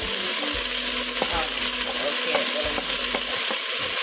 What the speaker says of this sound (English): So they can saute just a little bit before we add everything.